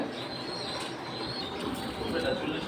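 Pigeons at a pigeon market, soft cooing and fluttering in a busy, noisy setting with a constant crowd and background din.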